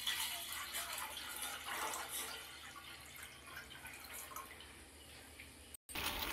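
Water pours steadily into a vessel while a hair pack is being prepared. The rush is close and continuous, then breaks off briefly near the end.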